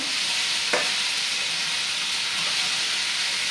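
Sliced bitter gourd frying in a pan, a loud, steady close sizzle with one faint clink early on.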